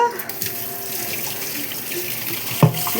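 Tap water runs steadily into a sink while fish is rinsed clean, a continuous close splashing wash with a brief louder splash near the end.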